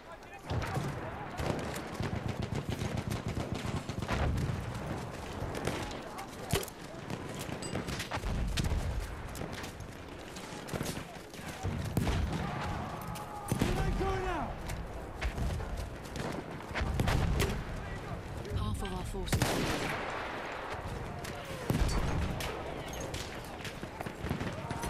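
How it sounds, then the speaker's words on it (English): Grenade and mortar explosions in Battlefield 1 (new French DLC, played on PS4 Pro) make a dense, unbroken battlefield din, thick with overlapping blasts and cracks for the whole stretch. "the nades, the mortars"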